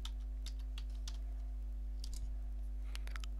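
Keyboard typing on a Raspberry Pi 5 setup, heard as faint scattered key clicks in a few short bursts over a steady low electrical hum.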